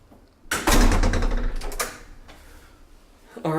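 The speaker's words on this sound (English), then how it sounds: "I'll go ahead and close my door." An apartment entry door in Xiamen, China swings shut with a loud rattling, mechanical clunk near the start, leaving a quieter room tone before another sharp knock right at the end.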